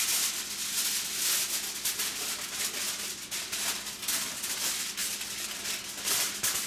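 A sheet of aluminum foil folded into a triangle for roasting a turkey, giving a continuous close crinkling and rustling that swells and dips as the sheet is handled.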